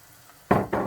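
Rice is tipped into a pan of frying onions, bringing two quick loud bursts of sizzling and scraping as the grains hit the hot pan after a quiet simmer.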